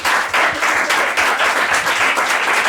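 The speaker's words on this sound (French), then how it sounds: "On peut applaudir quand même nos 2 animateurs incroyables." A studio audience at a live comedy show applauds the hosts, a loud, dense and continuous wash of clapping that holds steady with slight swells, with no voices heard over it.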